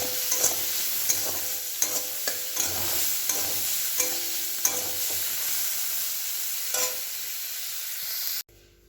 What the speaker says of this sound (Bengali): এই যে উচ্ছেগুলো ভাজা হচ্ছে।